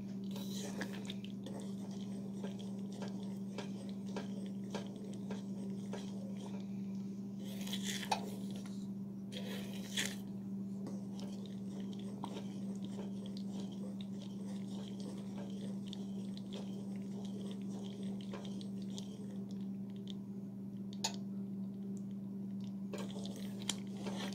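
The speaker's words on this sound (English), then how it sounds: "when it's bubbling, the caramel is bubbling" Caramel for cracker candy bubbles in a pan, giving a steady stream of fine crackling pops and fizzing over a constant low hum, with no one speaking.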